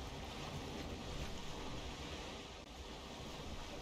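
Ocean waves and wind wash steadily around a boat sailing in Valheim, a continuous broadband rush with no talking.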